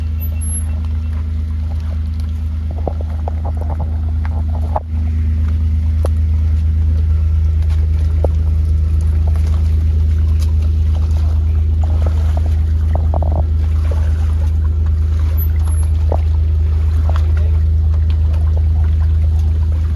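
Mike Finnegan's twin turbo jet boat runs on the water with a loud, steady engine drone that dips for a moment before settling into a constant roar.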